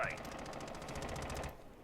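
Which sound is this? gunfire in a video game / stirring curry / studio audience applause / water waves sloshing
gunfire in a video game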